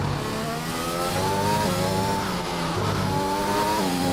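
A McLaren race car in an Xbox racing game at Imola, its engine note rising and falling steadily through the final corners as it revs and shifts, loud and continuous with no talk.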